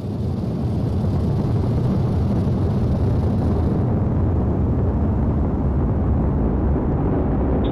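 SpaceX Crew-3 rocket liftoff produces a continuous, heavy, distant-sounding roar with deep crackling rumble that stays loud and even throughout.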